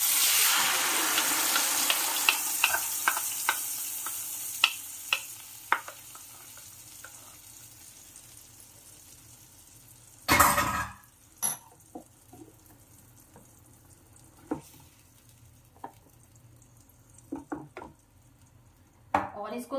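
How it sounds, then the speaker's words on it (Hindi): Masala paste hits hot oil in a pan with a loud hissing sizzle that fades into a softer steady frying, broken by scattered clinks and scrapes of a spoon stirring. "और इसको सॉटे होने देना है"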